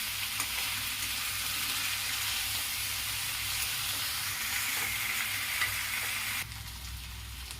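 Chicken masala sizzles and fries steadily in a pan, Bihari style with whole garlic cloves, a loud continuous hiss with faint stirring scrapes that drops slightly in level near the end.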